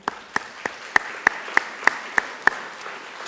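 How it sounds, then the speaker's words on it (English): A small group at an MBA speaker series event gives a short round of applause, heard as a string of evenly spaced, distinct claps over about three seconds at moderate volume. "I'd like to offer a round of applause to Win."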